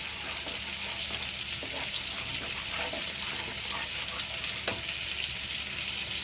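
Soybean curry masala frying in a pan, with a constant dense sizzle and scattered sharp crackles and pops, close up, with no talking.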